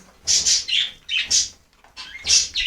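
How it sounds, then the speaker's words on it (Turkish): Budgerigars chirp and chatter in quick bright bursts, several overlapping calls coming in uneven clusters, close and clear with no talking. "Gördüğünüz gibi e, muhabbet kuşları da burada."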